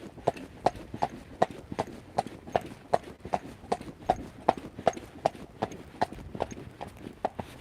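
A horse's hooves clip-clop steadily at a rising trot, close and distinct, with an even two-beat rhythm that repeats throughout and no talk over it.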